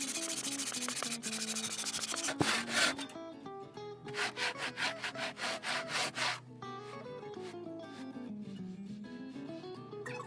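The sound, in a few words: hand saw cutting soft water-resistant shower ceiling panel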